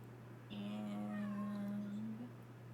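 A house cat lets out one drawn-out, mid-pitched meow lasting about a second and a half, fairly close and clear over a low steady hum, with no talking during it.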